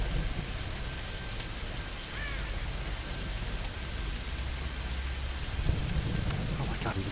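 Steady heavy rain hisses throughout in the video game Tomb Raider (2013), with a low rumbling undertone and a faint voice briefly in the background.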